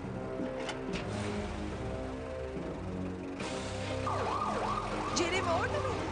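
An ambulance siren wails in an animated cartoon, its rising and falling tone entering partway through over engine noise and background sound, loud and close.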